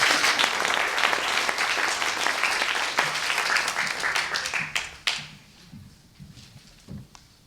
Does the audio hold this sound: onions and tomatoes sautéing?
no